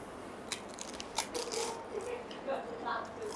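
Crunchy fried cheese samosa is bitten and chewed close up, a series of crisp crackling crunches over a few seconds, with faint background noise.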